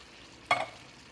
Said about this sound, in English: Alright, we're going to add our beans.